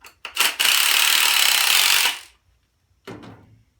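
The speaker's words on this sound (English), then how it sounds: "So let's keep drilling through it and see what it looks like." A drill bores through a wooden stair railing spindle in one sustained, loud grinding burst of about two seconds, with a few short clicks before it and a brief rattle after.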